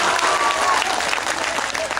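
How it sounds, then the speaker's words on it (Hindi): Audience applause at a ghazal recital, a dense, steady wash of clapping that stays loud and continuous throughout with no break. "नौजवानों के लिए ताली बजा दी"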